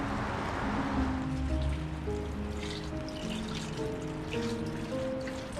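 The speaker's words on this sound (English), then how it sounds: "Water wheel." Water trickles steadily over a water wheel in a wet, rainy outdoor spot in Japan, a soft continuous splashing flow at moderate distance with faint tonal background sounds.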